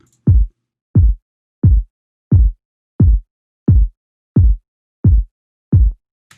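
An uncompressed kick drum beats eight times in an even rhythm, each low thud short and clean, separated by silence.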